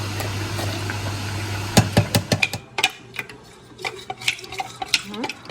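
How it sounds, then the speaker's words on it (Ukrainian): A spoon stirs starch dissolved in water while making cherry filling for a chocolate cake, with a steady hum behind and a run of sharp clinks and scrapes against the bowl partway through. "А зараз розчиняємо крохмаль з водою."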